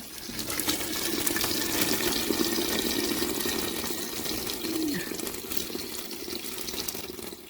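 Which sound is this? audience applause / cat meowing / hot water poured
hot water poured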